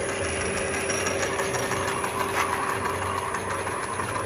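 Home-built gear hobbing machine cutting a 33-tooth gear, a steady mechanical hum and whir with a faint rhythmic ticking, constant and moderately quiet, no voices.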